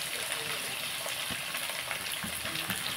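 Onions frying in a pan for a gongura dish, a steady close sizzle and crackle that holds through the whole stretch, with faint stirring clinks now and then.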